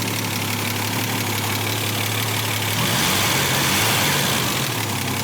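A Volvo 164 engine idling up close, a loud steady rumble with a dense mechanical whir that swells slightly partway through, no talking.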